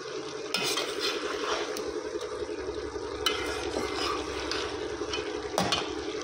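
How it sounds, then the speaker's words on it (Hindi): Potato and cauliflower being stir-fried on high flame for aloo gobhi sabzi: a loud continuous sizzle with repeated scraping and clinking of a spoon against the pan, close up. "अब हमने इसको हाई फ्लेम पर भून लेना है अच्छे तरीके से।"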